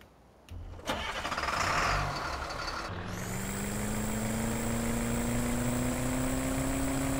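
A Ford F350 8x8 truck in Farming Simulator 2015 starts up with a cranking burst, then settles into a steady, close engine drone that slowly rises in pitch as it pulls away.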